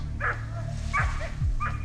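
Hunting dogs on a snowy wild boar hunt give three short barks and yips in quick succession, fairly close, with a steady low rumble underneath.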